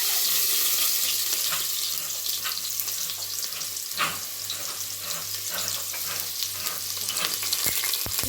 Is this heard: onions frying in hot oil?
yes